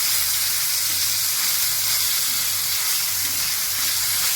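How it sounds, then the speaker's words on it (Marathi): Green chilli, ginger and garlic paste sizzles steadily in hot oil over a low flame while being sautéed for Mumbai-style vada pav filling, a close, continuous frying hiss with no talking. "हिरवी मिरची, आलं आणि लसूण याचं वाटण केलेलं आहे, ते टाकून परतून घेऊ"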